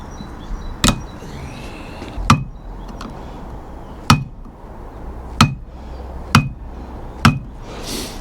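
Sharp metallic taps from a screwdriver bending locking tabs against the propeller nut on a Mercury 60 FourStroke outboard, about six distinct knocks spaced irregularly over a quiet background.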